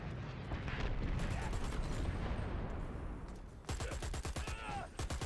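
Airstrike explosions in a competitive video game match, a rolling cluster of booming blasts and crackling bursts mixed with gunfire-like impacts. The clip is fairly quiet overall, with a sharper series of hits near the end.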